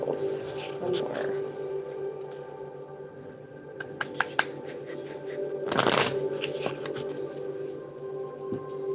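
Tarot cards being shuffled by hand, soft riffling and a few crisp snaps close up, with a louder burst of shuffling midway over a faint humming background.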